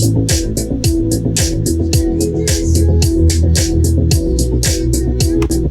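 Looped acoustic guitar figures with crisp percussive hits play in a pop remix, with steady rhythmic strums and plucks running continuously and loudly for the whole stretch, no voices.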